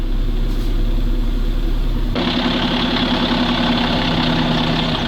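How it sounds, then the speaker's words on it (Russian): A Volvo tow truck's diesel engine idles steadily and close by with a low rumble that grows rougher and louder partway through, and no one speaks. "Бедная, сколько она работает на холостых, ей уже хочется на трассу скорее"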